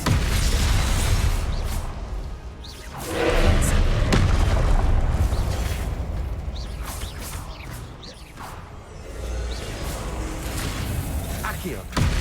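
A Glacius ice spell cast in the video game Hogwarts Legacy, heard as loud booming whooshes and impact bursts among continuous game effects, with brief pauses in between.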